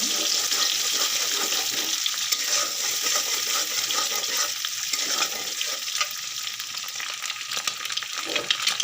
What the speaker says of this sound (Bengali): আমি কড়াইটা রেখেই ডিমটা ভাজা শুরু করে দিয়েছি